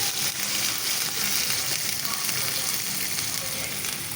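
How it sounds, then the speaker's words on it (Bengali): Water splashed into a hot black wok throws up a loud, steady sizzle that roars evenly throughout with no pause. "এবার আমি এটার মধ্যে এরকম করে জল ঢেলে দিলাম।"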